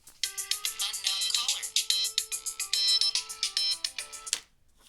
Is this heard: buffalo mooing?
no